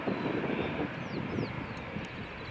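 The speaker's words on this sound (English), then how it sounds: "British Airways A319 is just taxiing to the runway now" A British Airways A319 taxis toward the runway at an airport, its engines producing a steady low rumble and broad roar, heard from a distance with some wind noise and no talk.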